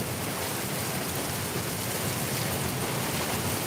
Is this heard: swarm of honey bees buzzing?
no